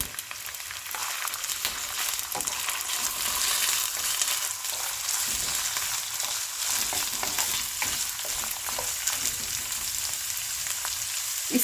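Chopped onions frying in 3 to 4 tablespoons of oil with cumin in a karahi, a steady close sizzle with scattered crackles and occasional stirring scrapes throughout, no talking.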